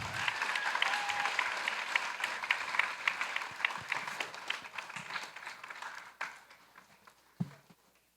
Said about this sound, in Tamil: கொஞ்சம் பலத்த கை தட்டல்.